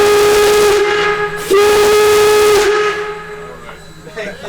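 A steam locomotive whistle blown from the engineer's seat at Steamtown National Historic Site sounds loud and close, a sustained harmonic blast with a brief break midway, then trails off into hissing steam.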